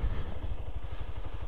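A motorcycle coasting off the throttle during a riding test, with a low, even engine putter pulsing steadily at close range and no voices over it.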